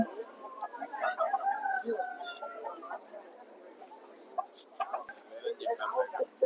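Roosters cluck and call repeatedly at close range at a rooster market in Vijayawada, with other fowl vocalizing in the background.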